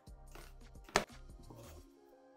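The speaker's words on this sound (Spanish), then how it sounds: "troceamos media cebolla en trozos pequeñitos" Half an onion being chopped into small pieces on a cutting board for a zucchini spaghetti dish, with a steady run of close knife taps and one sharp louder knock midway, no voices.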